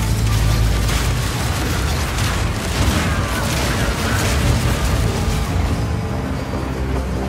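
Crossbow bolts fire in the video game Path of Exile 2, armor-piercing and permafrost rounds among them, a dense loud barrage of booms and bursts layered with game combat effects and music, with no pause throughout.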